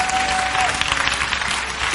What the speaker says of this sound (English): If you believe that, clap real loud.